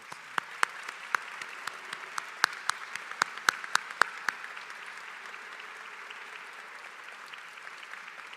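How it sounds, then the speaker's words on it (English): Applause at a university electrical and computer engineering commencement ceremony, with distinct individual claps ringing out in the foreground of a quieter, distant clapping crowd before fading to a low hall ambience. "Let's have a round of applause for our doctoral graduates."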